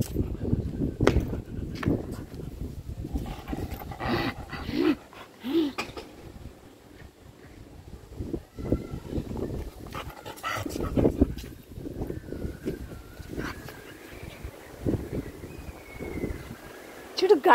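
A pet dog pants and whimpers while playing outdoors on a windy day, giving short, uneven yelps and huffs that come and go. Wind noise and people talking run underneath.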